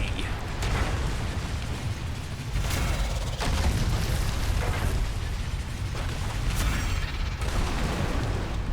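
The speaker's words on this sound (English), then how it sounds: "Can we have this gun? I may fire when ready." A cannon fires in World of Warcraft Battle for Azeroth during the Battle of Brennadam, booming blasts and rumbling impacts over dense battle noise, with no talk.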